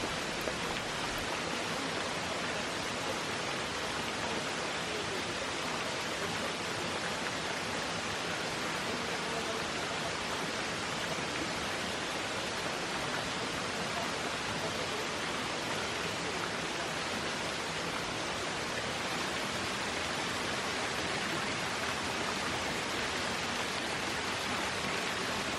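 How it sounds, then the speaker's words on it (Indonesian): A waterfall in Bali pours as a constant, broadband rushing roar, steady and unbroken from start to finish with no voices. "hal pertama yang ada di dalam daftar, melihat air terjun"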